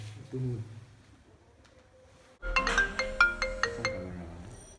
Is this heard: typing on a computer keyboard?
no